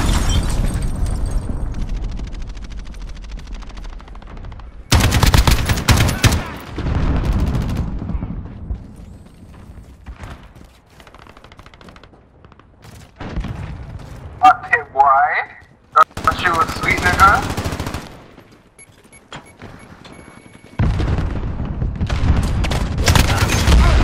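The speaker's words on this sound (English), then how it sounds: "Allied cruise missile away." Battle sounds in the Modern Warfare video game during a cruise missile strike: repeated loud bursts of gunfire and booming blasts come in waves, with quieter stretches in between and game voice callouts.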